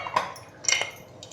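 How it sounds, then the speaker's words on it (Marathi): A lid set down on a pan of cooking masala for masala bhindi, giving two quick metallic clinks close by, followed by a faint rattle. "आता हे मसाले शिजण्यासाठी आहे ना फक्त 1-2 मिनिटं आपण त्याच्यावरती झाकण ठेवून घेऊया."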